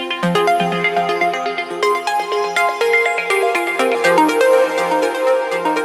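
Synth arpeggio played with the Tantra effect plugin switched on, a bright, densely layered run of rapid repeating notes in a progressive house style, loud and steady throughout with no voice over it.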